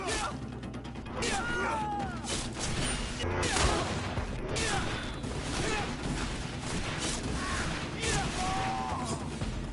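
Gunfire and a grenade explosion in a GreedFall battle: dense, repeated cracks and crashes go on throughout, with a heavier burst near the middle, mixed with voice-like game sounds.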